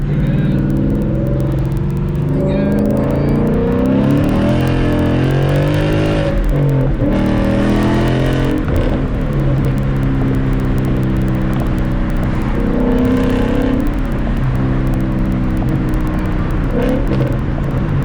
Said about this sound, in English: What's going on with this car? Am I misfiring or what?